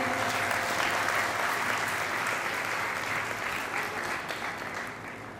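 Audience at a children's Nirankari gathering breaks into sustained applause, a dense wash of clapping that holds steady and slowly fades toward the end.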